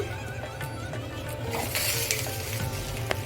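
Ragi rotti made with leftover rice cooks in a little oil on a pan over the stove, sizzling steadily up close with some brighter crackling bursts midway and a few faint clicks.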